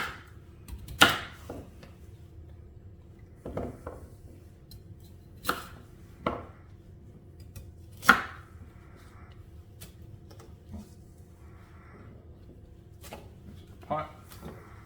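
A knife chops carrots on a cutting board in scattered, sharp knocks, about a dozen strikes at uneven intervals with a few louder hits, close and clear over a quiet kitchen background.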